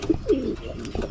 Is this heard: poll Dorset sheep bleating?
no